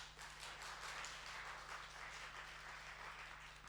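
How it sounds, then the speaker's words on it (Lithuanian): An audience at a book presentation for a novel claps steadily, a soft, continuous patter of applause heard at a distance with a faint low hum beneath. "plojimai jai."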